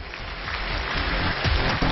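A steady wash of studio audience applause on a televised relationship-mediation show, continuous and fairly loud for the whole two seconds, with no gaps and no talk.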